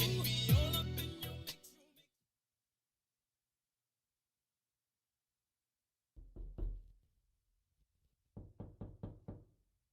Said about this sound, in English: Is that the door? Somebody at the door?